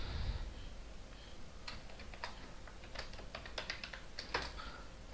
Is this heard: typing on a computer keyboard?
yes